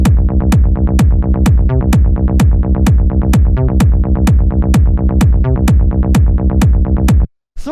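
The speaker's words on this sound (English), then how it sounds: "And then we have the kick bass, which sounds like this." Fat techno kick layered with a bass, pumping in a steady four-on-the-floor rhythm with a rolling low-end tail, loud and alone, with a short break near the end.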